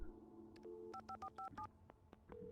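A phone is dialed in the video game Alan Wake: a quick run of short electronic keypad tones, several in steady succession, faint over a low game hum.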